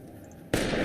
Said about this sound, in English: Let's test my shooting.